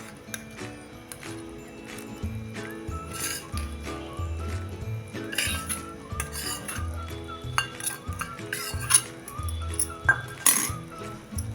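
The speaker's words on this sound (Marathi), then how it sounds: "त्यामध्ये आता हे परतलेलं कारलं आपण टाकून घ्यायचं आहे" Fried bitter gourd tips into a pan and is mixed with a metal spoon, giving repeated scraping and clinking against the pan over a faint sizzle, growing busier toward the end.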